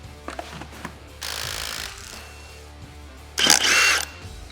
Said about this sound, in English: First thing we're gonna do is remove the wheel and tire.